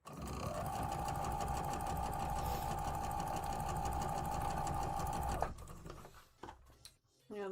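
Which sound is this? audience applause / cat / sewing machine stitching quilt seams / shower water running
sewing machine stitching quilt seams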